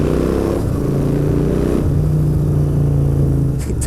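A Royal Enfield Interceptor 650 fitted with Hitchcocks header pipes rumbles close and loud, a throaty twin-cylinder exhaust burble with a rev that settles into a steady drone, then a short pop near the end.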